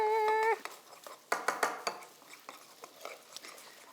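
Peanut butter sauce stirred in a bowl with a utensil, a run of quick clinks and scrapes against the bowl, close and moderately loud, after a brief tonal sound at the start.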